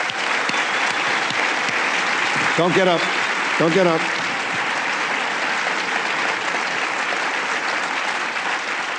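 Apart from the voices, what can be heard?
audience applause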